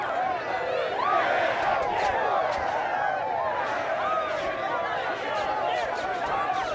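A crowd erupts in a boxing video game, a loud, dense roar of cheering and shouting that holds steady throughout with no pause.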